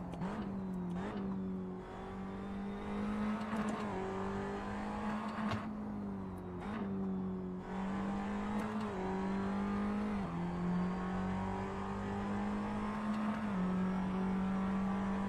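A Tatuus open-wheel race car in a racing sim at the Nürburgring revs steadily at high pitch, with quick dips and rises as gears shift, its engine drone running continuously up close.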